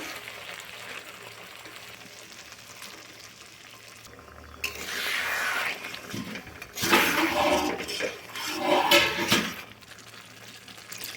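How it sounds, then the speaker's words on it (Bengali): Boiled mung dal poured into a pan of fried spices and oil, where a quiet stretch gives way to a loud wet hiss and sizzle that rises and falls in surges as the dal settles and is stirred. "মশলার মধ্যে তেল ছেড়ে দিয়েছে এখন দেব সেদ্ধ করা মুগ ডাল"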